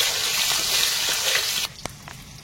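Potatoes frying in oil, a loud steady hiss and crackle that suddenly drops away to quiet, followed by a few soft clinks and scrapes of a utensil.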